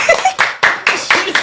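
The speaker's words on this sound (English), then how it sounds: "Applause." Sharp, close hand claps ring out at a studio talk show, roughly six distinct loud strikes in an uneven rhythm, each with a short room tail, sounding like a small group or a single clapper rather than a large crowd.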